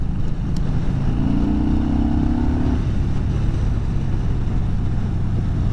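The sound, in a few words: Yamaha Bolt R-Spec motorcycle engine and exhaust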